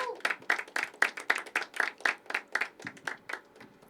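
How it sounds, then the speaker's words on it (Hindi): An audience at a poetry open mic claps in a small group, a rhythmic run of sharp, evenly spaced claps, close and crisp, with roughly fifteen beats in quick succession. "एक बार जोरदार तालियां भाई के लिए।"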